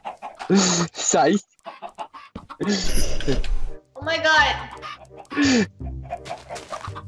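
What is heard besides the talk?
chickens clucking in a video game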